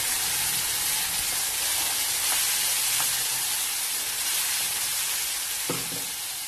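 Masala spices frying in oil over onions in a pan, a steady broadband sizzle throughout with a few soft stirring clicks, close and continuous with no talking.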